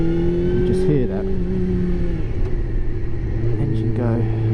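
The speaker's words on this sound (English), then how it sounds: "engine go nice and slow" A motorcycle engine idling and running slowly, a loud steady low rumble with shifting tones as the revs change slightly, heard close up with the rider talking over it.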